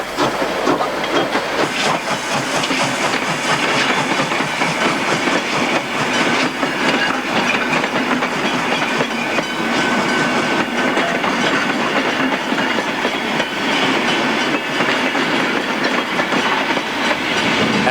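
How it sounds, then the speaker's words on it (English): Victorian J-Class 515 steam locomotive running, a loud, continuous roar of hissing steam and rolling train noise close by, steady throughout with no voices. "accompanied to Melbourne by the Victorian J-Class 515 with its distinctive red smoke-deflecting plates"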